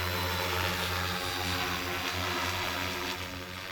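A military supply drone carrying food and ammunition to the front line takes off outdoors at night, its propellers making a loud, steady, close buzzing drone that holds throughout.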